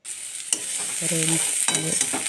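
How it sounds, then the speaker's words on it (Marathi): Garlic tempering sizzling in hot oil while a Marathi home cook prepares a cluster bean (gavar) dish, with steady broadband frying hiss, clinks of a stirring spoon, and a couple of brief voice-like tones over it. "लसणीची फोडणी देऊन झाल्यानंतर त्याच्यामध्ये गवार टाकून घेतली"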